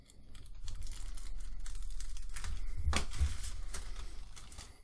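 Plastic bags holding tiny model kit track links for a 1/35 Tamiya Panzerwerfer 42 are cut open up close, with a continuous crinkling and rustling of plastic and a couple of sharper snips near the middle.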